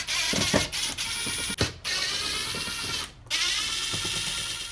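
Screws being backed out of a Toyota 4Runner rear door panel, a close, steady mechanical whirring and clicking from a driver with short pauses between screws.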